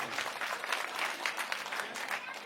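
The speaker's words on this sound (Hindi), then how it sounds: "इसके लिए जोरदार तालियां" Dense, steady clapping from a crowd at a political rally, cheering party workers for organizing the meeting; broadband applause holds evenly loud throughout with no pauses.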